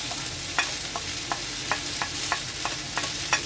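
Spices with salt and coriander powder stirred and fried in a pan for a Bihari adauri (mangrauri) curry. A steady sizzle runs throughout, with regular spoon scrapes and clicks about every third of a second.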